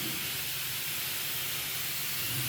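Spray gun laying a second coat of clear coat onto a car in a DIY paint job, a steady continuous hiss of atomized spray with no pauses, close and even in level throughout.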